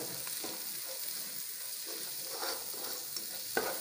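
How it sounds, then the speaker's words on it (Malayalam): Green chillies, coriander, mint and garlic sautéing in a pan for Tamil Nadu-style chicken Ambur biryani: a soft, even sizzle with a few light stirring scrapes, quiet and with no talking. "ഇനി ഇത് നന്നായിട്ടൊന്ന് വഴറ്റാം."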